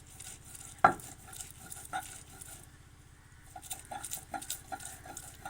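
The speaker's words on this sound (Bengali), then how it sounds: "দেখুন আমি এগুলোকে বাটছি ভালো করে।" Large black roasted eggplants are mashed for baigan bharta, with soft, uneven scraping and squishing, one sharp knock near the start, and more scraping later on.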